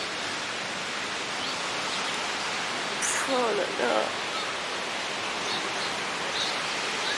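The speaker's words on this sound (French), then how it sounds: "Le bruit de l'océan là derrière." Continuous roar of ocean surf on Réunion, a broad steady wash of waves, with a short exclamation from a nearby voice partway through.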